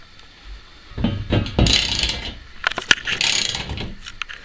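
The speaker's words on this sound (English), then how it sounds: "we're tightening one of the screws to the stud on the wall" A ratchet clicking as it drives a TV mount screw into a wall stud, close and loud, in uneven bursts of quick clicks with knocks in between.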